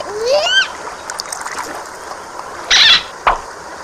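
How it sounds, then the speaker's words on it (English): A toy hammerhead shark drops into water with a short, sharp splash, followed by a small second splatter. A voice is heard just before. "Let's put the hammerhead shark back in the water!"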